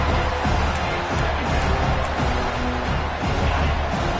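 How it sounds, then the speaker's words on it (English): A home crowd cheers at a college football playoff game, a dense, steady roar filling the stadium throughout with no breaks. "this home crowd is fired up and ready to make a difference today"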